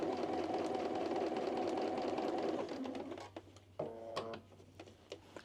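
Sewing machine stitching fabric with the right sides together, a soft rapid whirring hum that fades after a few seconds into quieter clicks and small handling taps.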